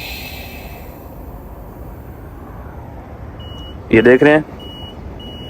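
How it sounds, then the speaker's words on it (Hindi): A tyre air inflator machine at a fuel station gives a short burst of loud electronic beeps once the tyre is full, heard over steady outdoor traffic hum, with someone speaking briefly. "वो वहाँ से मशीन आवाज़ करेगी तो तब छोड़ देना है"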